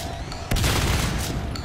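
Shotgun fire in a competitive online shooter match, a sudden loud blast followed by a dense crackling burst of gunfire, close and brief.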